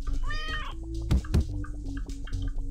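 Rotten apple cat in the game Turnip Boy Commits Tax Evasion gives a few short meows, close and fairly loud, alongside two soft thumps and light game chimes, with no talk.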